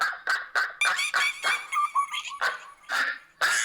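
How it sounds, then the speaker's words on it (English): Comedic animal sound effect of ducks and monkeys: a rapid series of squawking, honking and chattering cries, close and fairly loud, in quick bursts with short gaps. "the sound of those randy monkeys, iguanas, and ducks procreating in Stan's Zitz bath"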